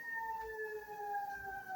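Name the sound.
sirens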